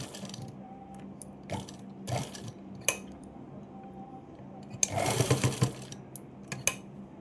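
A sewing machine stitches buttonholes on a blouse, with the presser foot lifted and lowered between passes. It sounds close, as intermittent short bursts of mechanical stitching, with a denser, louder run near the end.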